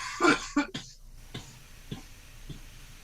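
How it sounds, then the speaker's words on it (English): A sharp cough opens, followed by a couple of quick throat-clearing bursts close to the microphone, then faint scattered ticks and a quiet room hum. "I don't need a cough right now."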